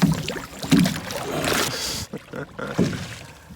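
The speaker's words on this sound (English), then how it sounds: "Just me and I'm rowing back." Oars pulling a small wooden rowboat through water, with dipping splashes and knocking strokes at an uneven pace, close by and fairly loud, with some faint voices in the background.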